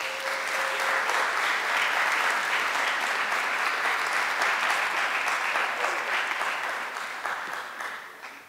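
A lecture audience applauds steadily to welcome Dr. Dan McAdams. The clapping is full and continuous and fades slightly at the end.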